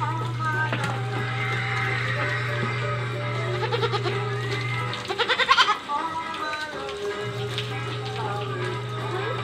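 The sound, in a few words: goat bleating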